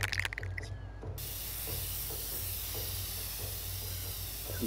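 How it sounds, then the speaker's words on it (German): Aerosol spray can hissing in the video game inFAMOUS Second Son, a steady close spray running almost the whole time after a brief burst of other game sound at the start, with a low hum underneath. "Dann kann ich auf die Spraydose sprayen, also wie im richtigen Leben."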